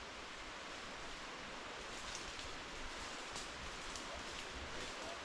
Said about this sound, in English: That's the top of the falls there. And then we've got this decent cascade here.